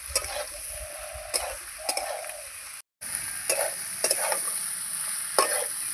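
Ridge gourd and potatoes stir-fried with spices in a pan: repeated scraping strokes of a spatula over a soft, steady sizzle, with one brief silent gap.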